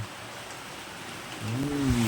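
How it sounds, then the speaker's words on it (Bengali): Heavy rain pours down in a steady, even wash of broadband hiss, moderately distant, with a brief voice-like hum rising near the end. "বৃষ্টিও নেমেছে গায়ে সেই জোরে"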